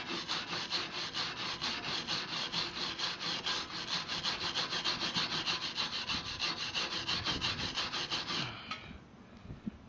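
Wire brush scrubbing a fresh weld on a steel utility trailer frame, a fast rhythmic back-and-forth rasping that runs steady and close for about eight seconds before stopping with a few light knocks.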